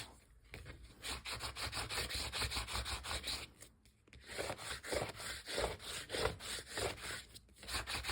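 Firm hand rubbing over a stencil laid on a gel printing plate, a quiet rhythmic series of scratchy back-and-forth strokes with a short pause partway through.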